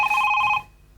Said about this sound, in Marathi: फोन उचल.